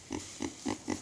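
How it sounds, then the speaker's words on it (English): Pigs on a farm give four short, quick grunting oinks in an even rhythm, close and fairly quiet. "These are pigs."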